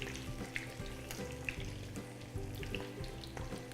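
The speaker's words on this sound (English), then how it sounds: "now I'll throw in our Brussels sprouts. You hear them sizzling away there." Brussels sprouts sizzle in hot bacon fat in a pan over a high flame, a steady crackling hiss with scattered pops throughout, fairly faint and close, with no talking.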